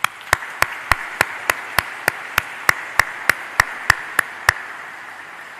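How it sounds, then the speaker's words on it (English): Schoolchildren in a church congregation at Mass in Ireland clap together in a steady, evenly spaced rhythm, about fifteen sharp distinct claps in a row with no talk over them. "a round of applause"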